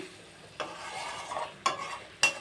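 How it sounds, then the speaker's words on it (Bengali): Six boiled eggs fry with spices in a pan, a soft continuous sizzle punctuated by three distinct stirring scrapes of the spatula. "তো এখন খুব সুন্দরভাবে আমি কষিয়ে নেব"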